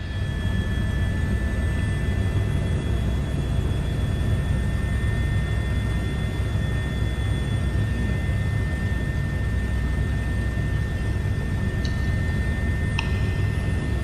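An H145 helicopter in a flight simulator game lifts off from a clear area, its turbine and rotor making a loud, unbroken drone with a couple of faint clicks near the end.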